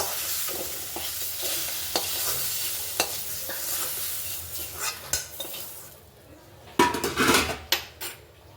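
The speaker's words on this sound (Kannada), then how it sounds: "ಇವಾಗ ಒಗ್ಗರಣೆ ಮಾಡ್ಕೊಳ್ಳೋಣ." Oil sizzles in a pan as spices are tempered, a spoon stirring and scraping against metal, with sharp clinks and clatters of cookware toward the end.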